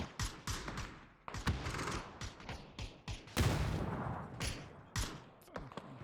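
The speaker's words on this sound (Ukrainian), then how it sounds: "бачу, є постріли" A burst of PUBG video game gunfire, rapid clustered shots and sharp cracks with thuds and mechanical clicks between them, fairly faint and fired in uneven volleys, with no talk over it.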